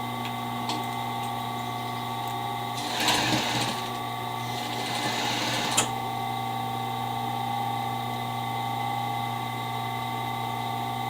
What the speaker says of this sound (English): you need to set your sewing machine so that the stitch is a tiny stitch